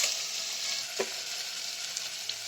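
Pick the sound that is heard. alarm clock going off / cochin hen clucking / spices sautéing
spices sautéing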